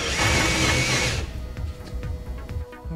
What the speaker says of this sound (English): we'll just use a very commonly available 18 volt cordless drill